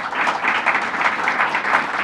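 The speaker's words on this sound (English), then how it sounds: "let's give him a round of applause as well" A crowd applauds steadily and loudly at a governor's affordable housing financing announcement, dense clapping continuing without a break from start to finish.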